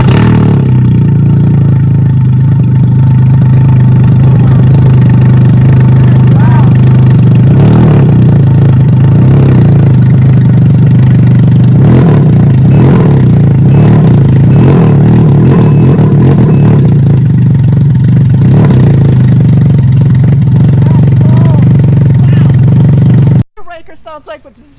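A Can-Am Ryker three-wheeler fitted with a Brannon King exhaust, running loud and close at a deep steady idle with occasional revs, then cutting off abruptly before voices follow.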